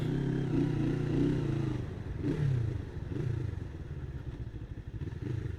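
A Cyclone 400i motorcycle runs on a ride with clutch shifting, its close, steady engine drone dipping briefly mid-clip as if through a gear change.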